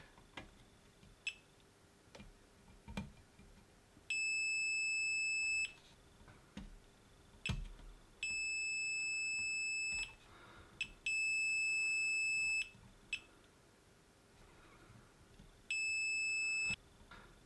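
Multimeter in diode-check mode beeps in four long, steady high tones while transistors on an ultrasonic cleaner's board are probed, with scattered clicks and taps of the probes between beeps, close and clear.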